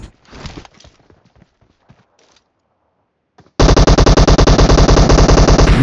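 Rapid automatic gunfire in the PUBG battle royale game bursts in loud and close after a stretch of faint sounds, a fast, unbroken stream of shots that keeps going to the end.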